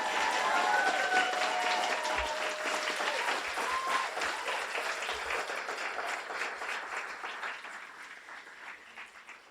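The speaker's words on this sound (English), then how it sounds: "A warm round of applause for Maria Lazaro." A crowd at a guide dog school graduation applauds steadily, a dense wash of clapping that gradually thins and fades toward the end, with a few faint voices mixed in.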